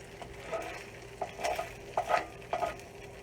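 Ground beef sizzling in a pan as it is stirred, with a soft steady fry under several distinct scraping stirs, close and fairly quiet.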